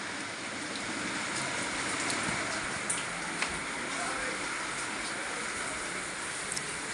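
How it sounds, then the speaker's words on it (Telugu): Rainwater pours into a leaking village house after a night of rain, a constant rushing hiss of rainfall with a few sharp, isolated drip-like taps scattered through it and no clear speech. "చూడండి ఎలా కాస్తుంది ఇల్లు."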